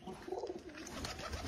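Pigeons coo softly in a brief, faint, low burble, close by with a quiet background and no talk.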